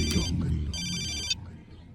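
A telephone rings with a short electronic ringtone burst in a dramatic film scene, layered over background music and a voice.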